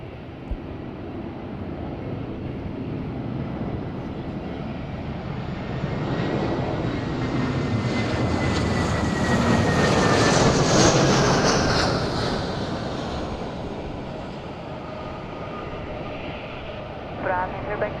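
A fixed-wing airliner takes off at Madeira Island Airport in gusty wind, its engine roar swelling to a loud peak midway and then fading into the distance over steady wind noise.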